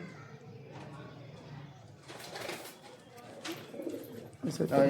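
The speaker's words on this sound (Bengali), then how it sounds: "অনেকটা সুন্দর আছে পায়রাগুলো" Pigeons coo softly in low, rolling calls, with more cooing building toward the end, while a person talks nearby.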